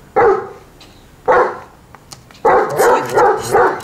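Dog barks loudly and close by in indoor surroundings, sharp bursts at first spaced about a second apart, then a rapid run of several barks in a row.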